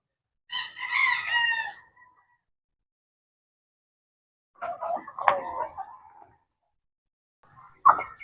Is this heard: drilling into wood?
no